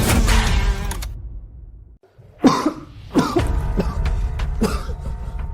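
A young person coughs up blood in a series of harsh, close, forceful coughs: a long rough burst, a brief pause, then several sharp separate coughs spaced a second or so apart.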